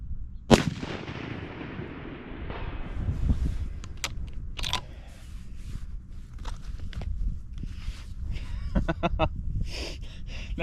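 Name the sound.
7mm PRC rifle shot with Nightforce scope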